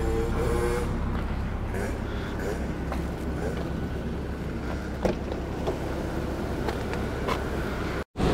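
Heavy morning road traffic of cars and trucks rolls past in a constant low roar, with a few sharper knocks and hisses breaking through and a brief drop-out near the end.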